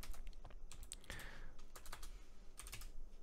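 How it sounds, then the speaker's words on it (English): Fingers tap across a computer keyboard in quick, uneven bursts of close, quiet clicks with short pauses between them, and no voice over the keystrokes. "we're just going to go up to the search bar here and type in"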